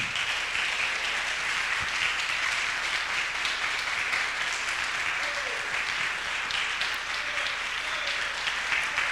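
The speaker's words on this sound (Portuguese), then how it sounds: "Vamos aplaudir Jesus essa noite?" A church congregation applauds steadily at an evening service, a dense, even wash of clapping filling the room for the whole stretch, with a faint voice or two briefly audible underneath.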